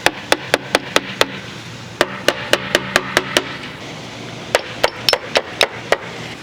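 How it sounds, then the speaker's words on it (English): Sharp, close hammer strikes on wood, about twenty in quick bursts, set a snug-fitting board into place while repairing a rotten Victorian porch. "you can use a bigger hammer and really just knock it hard"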